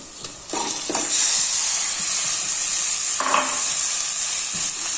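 Marinated chicken drops into a hot pan of browning onions and bursts into a loud, steady sizzle, with occasional clatter of stirring over the constant hiss.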